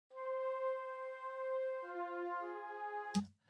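Heavyocity Mosaic Tape noble strings sample plays sustained, warm string chords alone, holding a steady tone before shifting lower partway through, then cutting off with a brief soft knock at the end.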